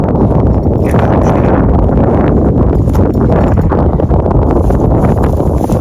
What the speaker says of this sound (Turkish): Rüzgar geliyor inşallah sesim sesimize geliyordur.